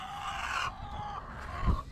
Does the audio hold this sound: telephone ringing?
no